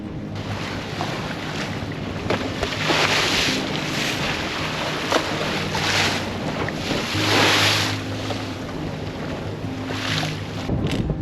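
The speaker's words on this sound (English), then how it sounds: "we're motoring the first part of the passage past the island of Tortola because we're heading into wind and current" A sailboat motors into wind and current past the island of Tortola, with a steady engine drone beneath constant rushing water, wind buffeting the microphone and periodic swells of surf against the hull.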